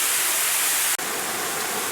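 Bua Tong waterfall in Mae Taeng, Chiang Mai, pours as a dense, steady roar of rushing water, loud and unbroken apart from a brief click.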